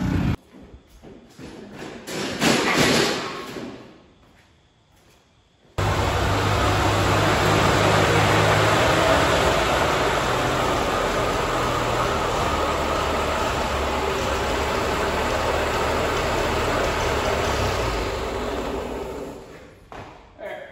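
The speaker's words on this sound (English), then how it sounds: "let me go through with the power washer and rinse everything down now" A power washer sprays water to rinse down a Ferguson TO-35 tractor under restoration. A loud, steady broadband hiss runs continuously for about fifteen seconds after a brief quieter stretch, then fades near the end.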